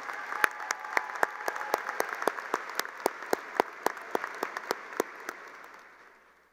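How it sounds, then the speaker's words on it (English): High school graduation audience giving a round of applause, with loud, crisp individual claps standing out over a steady bed of clapping that fades away at the end. "One more round of applause for Kirsten and Danielle."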